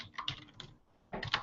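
Keys clatter on a computer keyboard as a name is typed, two quick bursts of close tapping separated by a brief pause.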